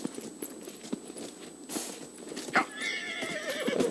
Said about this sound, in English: Come on, horsey.